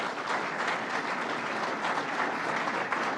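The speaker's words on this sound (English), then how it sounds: "Let's give a round of applause to Bill." Audience applause at a groundbreaking ceremony at Albany International Airport, a dense, steady round of clapping throughout with no talk.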